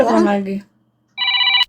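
A telephone rings in one short burst right after a brief stretch of talking, the electronic ring clear and close.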